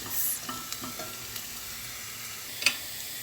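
Zucchini and tomato paste sauté in a pan, a steady close sizzle with a few soft stirring scrapes and a sharper clink near the end.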